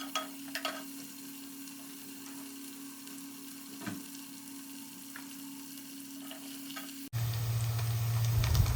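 Onions hit hot oil already crackling with cumin and bay leaf, and the faint steady patter swells abruptly into a loud, dense sizzle near the end.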